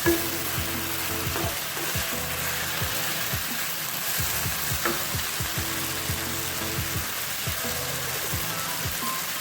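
Vegetables and chicken for street-style chowmein stir-fry in a hot pan, a loud continuous sizzle broken by repeated scraping strokes of the spatula.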